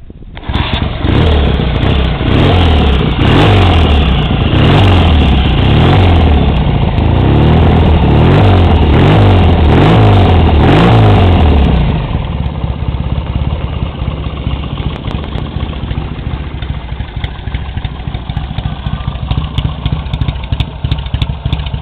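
A 1979 Triumph T140E Bonneville 750 motorcycle, low original mileage, fires up and runs loud with rhythmic throttle blips, then drops to a steady, close idle.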